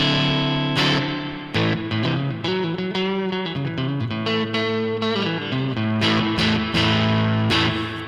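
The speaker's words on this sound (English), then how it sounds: "when you have delay and reverb going into a distorted sound" An electric guitar runs through a Helix amp with drive, delay and reverb, playing a distorted riff of ringing notes and chords with short breaks between phrases, echoes trailing behind them, no voices.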